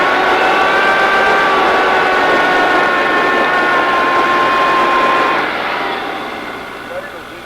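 A Land Rover's engine strains steadily with a whining electric winch while pulling a stalled truck out of a mud bog in the Amazon, a loud sustained drone with a high tonal whine that eases off near the end.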